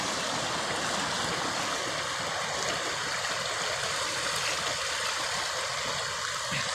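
Water pours down in a continuous close rushing splash, a steady loud hiss and patter that stays unchanged throughout, with no voices.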